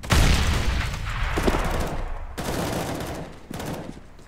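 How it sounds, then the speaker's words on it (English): A flashbang grenade in a shooter video game goes off amid rapid gunfire, a dense loud burst of bangs and booms with sharp cutoffs, fairly close with no talk over it. "Throwing flashbang."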